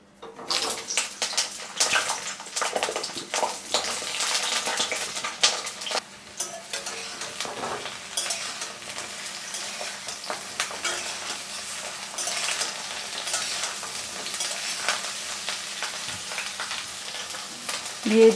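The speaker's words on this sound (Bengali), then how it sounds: "প্রথমে আমি বেগুনগুলো ভেজে নিব।" Brinjal pieces frying in a couple of spoons of oil for a fish egg curry, a continuous close crackling sizzle with occasional stirring scrapes, fairly loud throughout.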